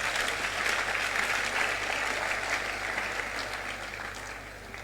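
Steady, even applause fills a hall at a youth conference at a university, with the crowd clapping continuously at moderate loudness throughout.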